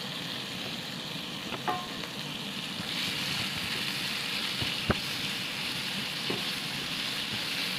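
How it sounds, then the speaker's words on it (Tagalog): Pork sautéing in a pan for udon, a steady close sizzle and crackle with a few sharp clinks of a utensil stirring against the pan, no talking. "So, magigisa lang tayo ng pork."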